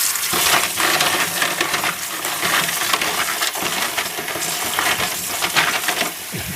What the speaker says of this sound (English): Clean in this case all these switches with a good load of warm water, and do that very thoroughly.